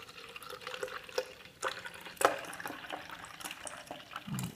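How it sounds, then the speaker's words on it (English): Almond milk poured from a carton into a cup, a soft steady liquid trickle with small splashes and clinks, close and alone. "I'm gonna pour into my cup here 8 ounces of almond milk."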